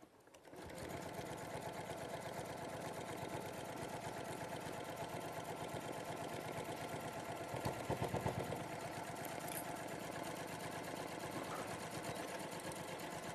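A sewing machine stitches PU fabric, running as a steady close mechanical hum with a fast regular needle patter that barely changes in pace. It is heard on its own, without talk.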